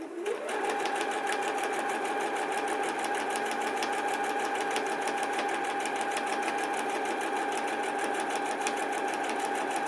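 Sewing machine stitching quilt binding, running steadily at a fast even rhythm, close and continuous with a slight start at the beginning.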